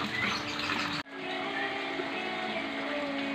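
Lovebirds of several colour varieties chirp in a quiet cafe garden, giving short high tweets over a steady background hum that briefly cuts out and returns.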